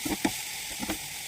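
Crumbled fish for fish puttu hits a hot pan, a steady close sizzle broken by a few soft stirring scrapes.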